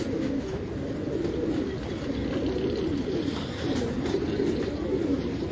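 A loft full of pigeons in Salman Yahya's loft, with Ustad Sajid Haneef's birds, keeps up a steady, overlapping low cooing and warbling that never pauses, fairly close and with no one talking.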